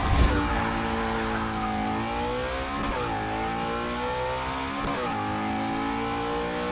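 Stock car engine revved hard toward redline on a quarter-mile drag run, a loud continuous roar that rises through the gears with two brief shift dips.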